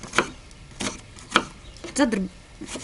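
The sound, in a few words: chopping onion with a knife for goulash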